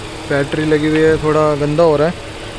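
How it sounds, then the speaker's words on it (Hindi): A parked 1.2-litre CNG car idles with its air conditioning running, giving a low, steady engine hum beneath someone talking close by. "कि ये मतलब एसी चलने पे कितनी आवाज़ करती है सीएनजी गाड़ी"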